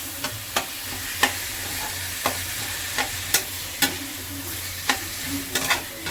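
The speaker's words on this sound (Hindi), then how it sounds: "अब हम डाल देंगे इसमें हमारे टमाटर। अच्छे से पूरे टमाटर डाल देंगे।" Tomatoes are stirred through a sizzling pan, with steady frying hiss and about a dozen sharp spoon scrapes and clicks against the metal at an uneven rhythm, close and clear with no talking.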